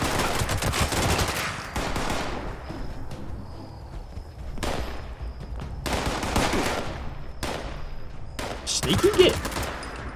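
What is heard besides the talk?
shotgun gunfire in Fallout 76 video game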